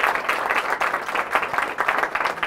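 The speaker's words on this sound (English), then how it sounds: "please help me give them a round of applause" A crowd applauds steadily, a dense, even wash of many hands clapping at once with no voices standing out.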